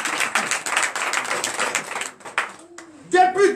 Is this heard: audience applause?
yes